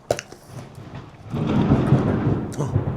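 Thunder before rain outdoors: after a few faint clicks, a deep rolling rumble swells and lingers, moderately loud, with no talk over it.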